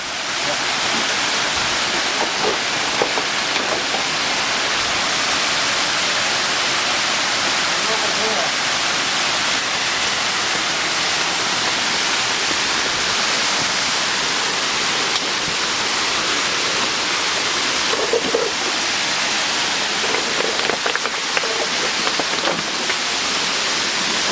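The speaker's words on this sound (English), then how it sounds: "This is the Glen River." The Glen River rushes through the old Annesley estate grounds at Donard Lodge, a loud, continuous roar of churning water close by, with brief voices now and then.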